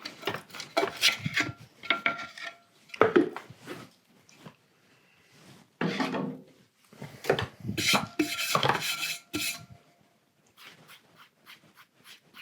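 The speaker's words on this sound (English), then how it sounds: "it's a little bit thick here, so I'll trim away some of that" A trimming tool scrapes a clay lid on a spinning pottery wheel for a fermenting crock, giving intermittent rough, rasping bursts that come and go with short quiet gaps.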